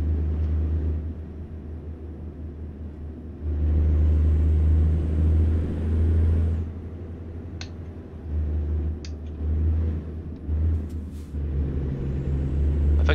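Heavy truck engine in American Truck Simulator, a steady low drone that swells louder for a few seconds, eases back, and rises again, with a few faint clicks and a brief hiss over the constant rumble.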